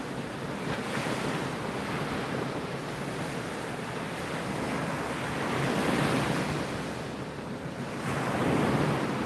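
Loud ocean surf breaking on a beach during surf fishing, a continuous roaring wash that swells and recedes, with heavy wind buffeting the microphone.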